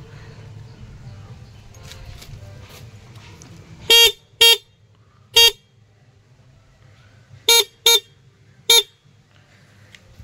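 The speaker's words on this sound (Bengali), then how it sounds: "তো এই গাড়ির হর্নটা আলাদা রকম" A large car horn with a cracked, rattly tone gives six short, loud honks in two clusters, close by over a low idling hum, with a brief spoken remark.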